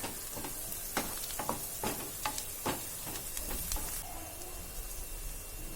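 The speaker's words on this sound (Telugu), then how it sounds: "ఈ ఆనియన్స్ కొద్దిగా సాఫ్ట్ అయిన తర్వాత 1/2 స్పూన్ ఆరిగానో, ఒక 1/2 spoon Kashmiri red chilli powder, ఒక 1/2 స్పూన్ బేసిల్ లీఫ్ పౌడర్ వేసుకొని బాగా ఫ్రై చేసుకోవాలి" Softened onions frying with oregano, Kashmiri red chili powder and basil leaf powder for a chicken pizza topping, a soft steady sizzle broken by a run of quick spatula scrapes in the first few seconds.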